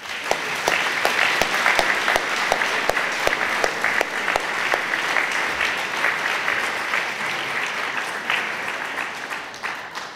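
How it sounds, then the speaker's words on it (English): Audience at an apprenticeship awards evening applauds the students, a dense, steady clapping from a large crowd that continues at full strength for about ten seconds before easing slightly at the end. "have a round of applause for the students that have done so well tonight."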